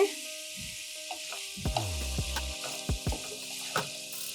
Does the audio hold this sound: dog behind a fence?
no